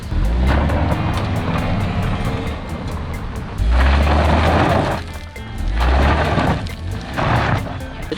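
A 1991 Toyota Corolla with fresh oil, transmission fluid and battery drives along, its engine droning steadily with rises in revving and road noise, no talk.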